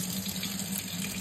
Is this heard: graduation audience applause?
no